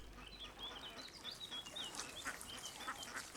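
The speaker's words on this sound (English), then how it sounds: "These gadwall chicks scuttle for safety in the reeds." Gadwall ducks calling among marsh reeds on a peatland moor, a scatter of nasal, honking notes repeating irregularly over steady wetland background noise at middle distance.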